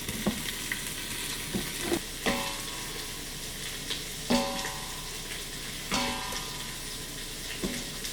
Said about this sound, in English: Now we're gonna let that cook for a little bit until, like I said, it's nice and charred.